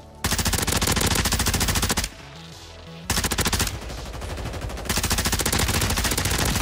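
Tempest Razorback submachine gun firing in the video game Warzone, loud rapid bursts of automatic gunfire with brief pauses and a quieter stretch of game noise between volleys.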